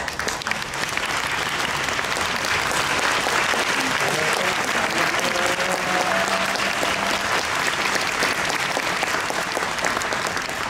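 A concert hall audience gives a big, sustained round of applause after an orchestra performs Ravel's Boléro at a benefit concert for Ukraine, even and unbroken from start to end.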